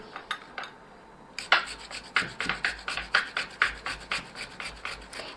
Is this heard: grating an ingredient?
yes